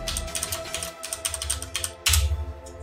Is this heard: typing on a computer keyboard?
yes